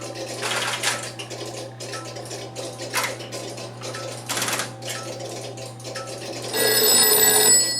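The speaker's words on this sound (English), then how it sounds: "Phone ring." An old 1960-era telephone exhibited at a telephone museum in Muenster, Texas, rings in repeated bursts with mechanical clattering, set against a steady low hum; a brighter, denser ringing swells up near the end.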